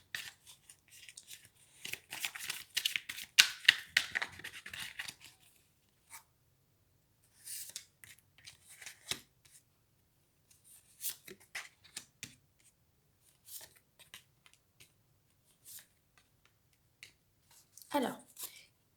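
Tarot cards shuffled and laid down on a table in a quiet room, giving bursts of crisp riffling and soft flicking snaps, with short pauses between draws and occasional single card taps.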